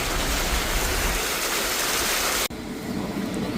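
Rainwater rushing along a stream in the Junagadh countryside, a loud, dense, continuous wash of flowing water close by that cuts off abruptly near the end to a quieter background.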